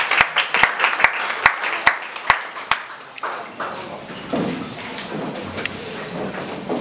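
Applause at the grand final of a French-language speaking contest: a few sharp, evenly spaced claps open, then the wider audience joins in a softer, scattered round that fades.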